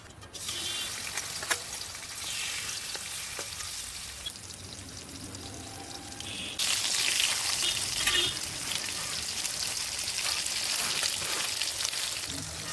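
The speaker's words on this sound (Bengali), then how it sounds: "এখন মাছগুলো ভেজে নেব" Pieces of katla fish fry in oil with a soft, continuous sizzle and bubbling hiss that swells louder about halfway through, with faint occasional pops and no talking.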